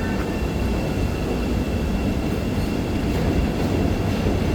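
A train passes on a Chicago street during a warm spring walk, a loud continuous rumble and roar of rail wheels nearby, steady throughout with no talking.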